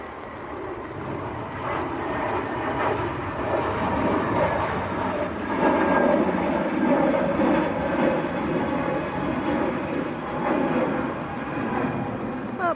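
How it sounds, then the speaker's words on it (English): An Airbus A321neo airliner passes at Manchester Airport, its engine roar swelling to a peak midway and then easing, a continuous broadband rumble with a thin whine on top. "A321 Neo. Check this."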